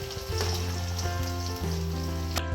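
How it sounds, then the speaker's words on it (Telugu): Chicken pieces frying in hot oil for a chicken pickle, a steady close sizzle with a faint underlying hum. "సో ఇలా ఫ్రై చేసి పెట్టుకున్నాం చికెన్."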